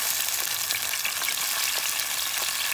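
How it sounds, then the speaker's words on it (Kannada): Chopped tomatoes frying in hot oil in a pan, a loud continuous sizzle and crackle with occasional stirring, no voices. "ಈಗ ಕಟ್ ಮಾಡಿಟ್ರಂಥ ಟೊಮೆಟೊನ ಹಾಕಿ ಬೇಯಿಸ್ಕೊಳ್ತೀನಿ."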